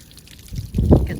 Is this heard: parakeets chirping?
no